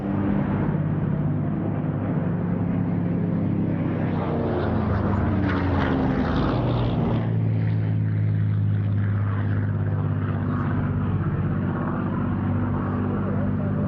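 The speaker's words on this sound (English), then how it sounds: "running in directly in front of you to start its solo display, this is the Spitfire." A Supermarine Spitfire propeller fighter runs in at an airshow to begin a solo display, its steady piston-engine drone loud and continuous, rising toward mid-pass, under a commentator's voice.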